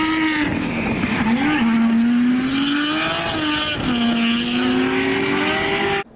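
Drift car engine revving hard and continuously with a strong rising and falling tone, tires squealing throughout, loud and close for about six seconds before cutting off.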